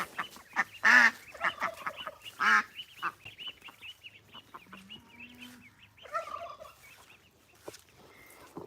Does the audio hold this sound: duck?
yes